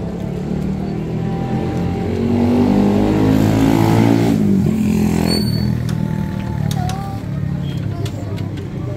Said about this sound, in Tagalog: Ferrari talaga to.